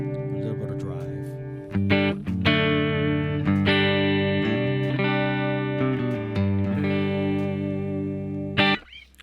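An electric guitar with light drive plays through a Joyo American Sound amp simulator. Sustained chords and single notes ring out with a slightly gritty tone, and strums and pauses mark the phrases.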